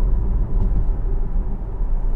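A car's engine rumbles steadily from inside the cabin as the driver accelerates through traffic, a low, continuous drone with no clear rise in pitch and no voices.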